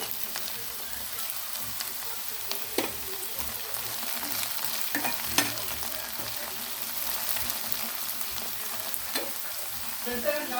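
Sliced okra fries in a pan for a stir-fry with a constant dense sizzle. Occasional stirring scrapes and clicks break through the hiss from close by.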